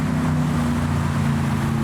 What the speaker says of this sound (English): And what seems to be a late arrival, a Cobra.